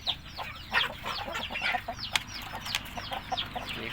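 Several Thai yellow white-tailed chickens cluck and chatter nearby in quick, overlapping bursts, with a few sharper squawks standing out.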